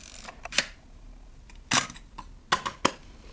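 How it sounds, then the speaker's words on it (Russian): A cloth focal-plane shutter on an SLR camera fires in a few sharp mechanical clacks, isolated and fairly close, with quiet gaps between the releases. "Матерчатый затвор, самый стандартный."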